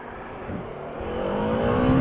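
A Bajaj Dominar motorcycle pulls hard on a test ride near a dam, its engine note climbing steadily in pitch and growing louder over two seconds.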